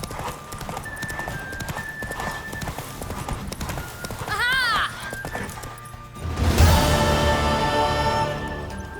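A horse gallops in the video game The Witcher 3, with steady, rhythmic hoofbeats close by, a whinny midway and a louder crash of noise near the end.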